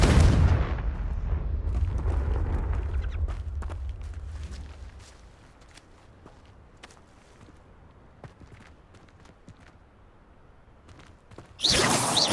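A Confringo fire spell blasts in Hogwarts Legacy, a heavy booming burst that rolls off into a quieter, scattered tail of faint thuds and crackles before another loud burst cuts in at the end.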